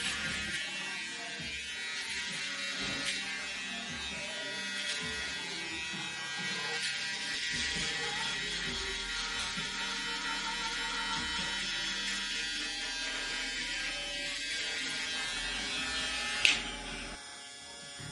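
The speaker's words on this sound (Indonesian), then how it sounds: "tinggal kita shaver agar warna gradasinya semakin halus" An electric shaver buzzes steadily and closely for the whole stretch while smoothing a burst fade haircut, its high whine continuous, ending in a brief click near the finish.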